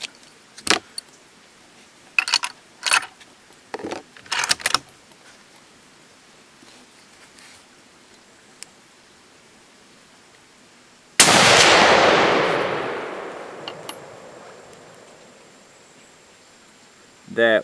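A Savage 110 rifle in 7mm Magnum fires one loud, close shot at a 100-yard range, with a long rolling echo that decays over several seconds, after some earlier clicks and handling noises.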